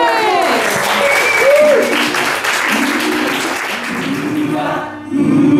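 An audience applauds and cheers at a live concert, with steady, loud clapping throughout. Someone talks over the clapping, which fades briefly near the end before rising again.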